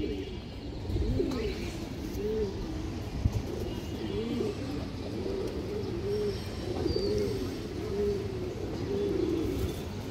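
Domestic pigeons, a pair of large, lively birds kept for sale, coo in repeated rolling phrases throughout, several calls overlapping steadily at close range with no talk.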